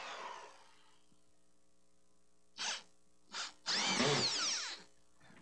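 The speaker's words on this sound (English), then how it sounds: "An alternative to nailing is to use drywall screws and a screw gun." A screw gun drives drywall screws into framing: two short whirring bursts followed by a longer, louder spin, against a near-silent background.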